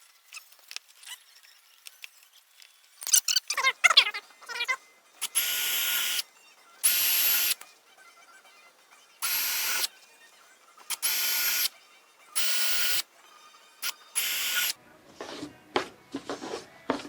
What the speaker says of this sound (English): I'm gonna drill.